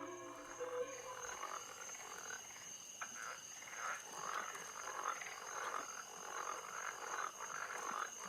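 Frogs croaking in the Rusty Lake: Paradise video game, a repeated pulsing croak that loops with a sustained ambient tone in the background, faint and fairly even in level.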